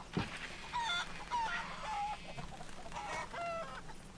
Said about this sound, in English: That's right, you're a free chicken now.